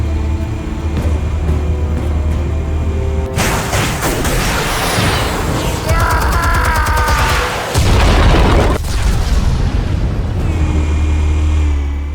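Explosives detonate in the Batman Telltale game, loud booming blasts with rumbling debris that start a few seconds in and continue in heavy waves over a low background drone.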